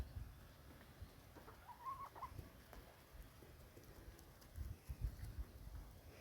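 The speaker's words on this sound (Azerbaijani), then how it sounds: "Toyuq üçün qaqqılayır" A hen clucks softly and intermittently at a moderate distance, a brief higher call near the two-second mark, over low rumbling outdoor background noise; no one speaks.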